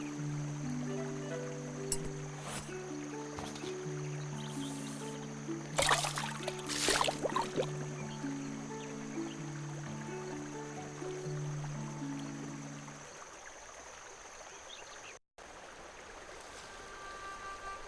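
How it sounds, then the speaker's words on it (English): Boat gliding down a brook in the adventure game The Night of the Rabbit, with flowing water and gentle rippling under a sustained musical tone, marked by a few sharp clinks and splashes midway. "Who sails down the brook?"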